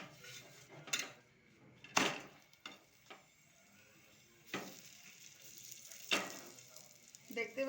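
A tomato paratha sizzles softly in a pan as ghee is spread on its upper side, quiet frying punctuated by several sharp scrapes and taps of a spatula, fairly faint overall.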